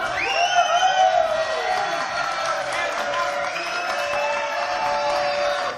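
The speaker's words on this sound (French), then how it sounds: "quelques instants, je recevrai Jean Maresca, que je vous demande d'applaudir très très fort." A French television studio audience cheers loudly, with whoops, shouts and rising excited voices over scattered clapping, a dense crowd roar that holds for several seconds.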